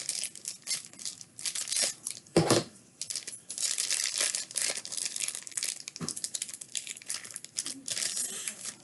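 Scissors cutting open paper envelopes of trading-card packs, with dense crinkling and rustling paper, sharp snips and a louder crunch near the middle, close and continuous.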